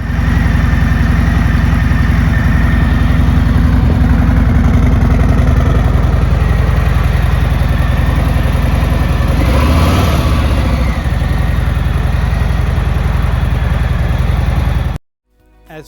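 Harley-Davidson Street Glide or Road Glide touring motorcycle on a test ride, its engine running steadily and loudly the whole time with a deep low rumble and wind noise, a brief swelling pass midway, then cutting off abruptly at the end.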